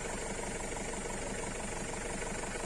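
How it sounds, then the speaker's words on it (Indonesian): A vehicle engine ticks over at idle after being warmed up at a campsite in Bedengan, Malang, producing a steady, continuous low rumble with a faint knocking texture and no voices. "Sudah kita panasi mesin"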